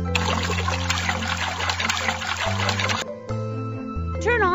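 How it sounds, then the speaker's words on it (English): In a cartoon, water pours into a cement mixer as a steady splashing rush for about three seconds and then cuts off, followed by brief electronic tones. "Add some water."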